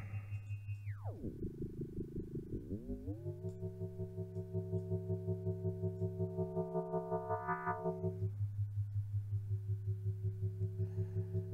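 Sine-wave tones from a VCV Rack synthesizer module in the Autodafe REDs collection morph between patterns: a steady low drone with a tone that sweeps downward, then layered harmonic tones and another added sine wave, played alone.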